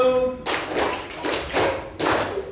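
A class of students claps once together as part of a counted clapping routine in a classroom; the first sharp burst of clapping comes after a brief pause, followed by further bursts, loud and close.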